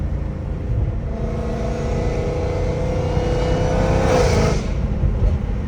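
A Dodge Hellcat Redeye with a titanium catless exhaust drones loudly from inside the cabin, the engine note climbing and swelling toward a louder peak near the end before easing back.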